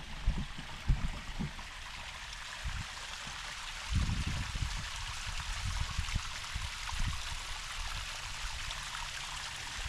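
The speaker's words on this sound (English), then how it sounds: "you hear the water coming off and around that rock bed area" A small creek runs over and around a rock bed on a woodland hike, a soft continuous trickle and gurgle with a few low thumps, fairly quiet and with no talking.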